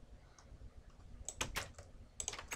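Computer keyboard keys and mouse buttons clicking during Minecraft play, quiet clusters of quick taps arriving in two short bursts with a faint gap between them, no talk.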